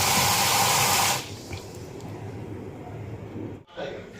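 Food being rinsed under a running kitchen tap: a loud, steady rush of water for about a second, then quieter continuous trickling with a brief break near the end.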